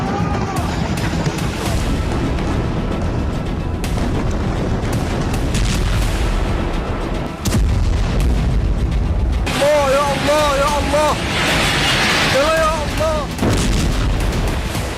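Heavy explosions from Israeli air force bombing in Lebanon, a dense rumbling barrage of booms and blasts running throughout, with a voice talking over the din and chirping tonal sounds in the later part.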